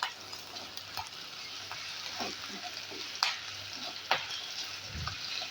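Green chilies fry in a pan along with ginger and garlic, giving a steady low sizzle with scattered light scrapes and a couple of sharper utensil clicks, close and fairly quiet, with no voices.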